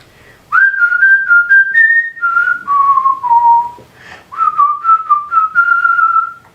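A person whistles a song's tune alone and close by, with clear sustained notes in short melodic phrases separated by brief pauses.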